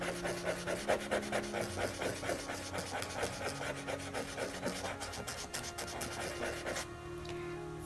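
A cotton bud rubs to blend charcoal on standard supermarket drawing paper, making quiet rhythmic scratchy strokes close by that stop near the end.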